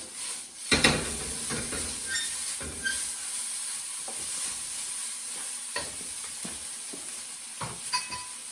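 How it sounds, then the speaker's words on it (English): Singapore noodles are tossed and stir-fried in a hot wok, giving a constant close sizzle broken by repeated scraping clatters of the pan and utensils, with no talk heard. "put the noodles in, try and keep everything in the pan. Give it a toss."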